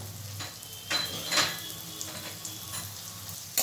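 Vegetables fry lightly in a pan over medium heat for cheese Maggi masala, producing a steady close sizzle with occasional scraping stirs and utensil clinks.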